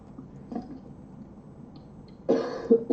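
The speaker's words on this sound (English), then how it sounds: "Sorry, I'm going to cough." A person coughs lightly and then clears their throat loudly and close by, a brief rough burst near the end following a softer earlier catch.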